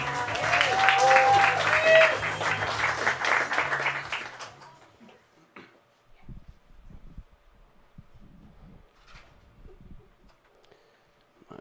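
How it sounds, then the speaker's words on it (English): Comedy club audience applauding a stand-up comedian taking the stage, a dense burst of clapping and cheering with music that fades out after about four seconds, leaving quiet room noise and scattered small sounds. "Everybody, big round of applause for John Mendoza."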